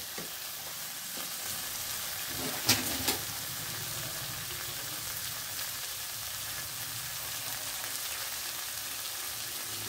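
Steady sizzling and bubbling of potatoes frying in a pan for a fish curry as hot water is poured in, a soft continuous hiss with a couple of faint clinks near the start; no talk.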